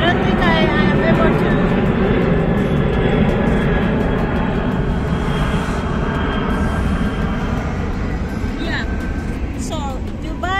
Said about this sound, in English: The planes. See how close it is? Like, it's very close. It's very noisy.